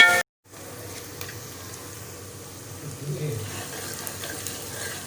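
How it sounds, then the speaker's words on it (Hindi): Ghee sizzles steadily in a pot of tomatoes for a beef dish, a close, continuous frying hiss that follows a short sharp sound and holds for several seconds. "अब डालेंगे इसमें घी"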